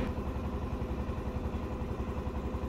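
A trawler boat's engine heading back toward the settlement from Dublar Char runs as a steady, close, chugging low rumble with no pauses and no voices over it.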